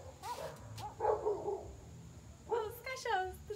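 Several dogs bark and yip nearby in short bursts, some with a whining, tonal quality, as a person speaks in Portuguese over them.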